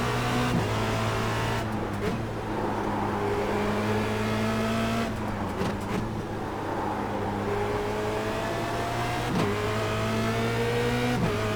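Formula Renault 2.0 race car engine at Zandvoort in a racing video game, loud and close, revving steadily with sharp gear shifts and rising pitch several times, heard alone.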